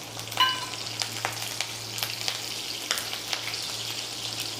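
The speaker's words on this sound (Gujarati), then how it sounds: "હવે નાખીશું જીરું। આમાં જીરાનો જ વઘાર કરાય છે।" Cumin seeds and green chillies sizzling in hot oil in a kadai, a steady close crackle with sharp pops and spits scattered throughout.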